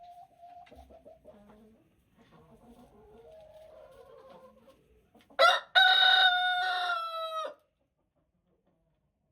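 Chickens and hens in a winter coop, including an old Rhode Island Red hen, give soft low clucks and murmurs before a loud rooster crow bursts out near the end.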